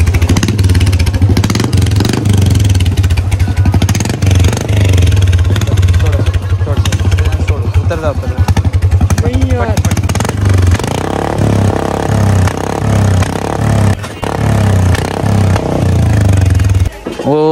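A modified Bullet motorcycle engine idles and revs nearby with a rough, throbbing rumble and metallic clatter, loud throughout with brief dips.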